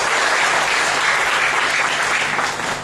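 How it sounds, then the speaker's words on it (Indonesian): Loud, continuous applause fills the room from a seminar audience at a church gathering in Timor-Leste, a steady wash of many hands clapping with no pause. "Berikan lagi tepuk tangan bagi Tuhan Yesus."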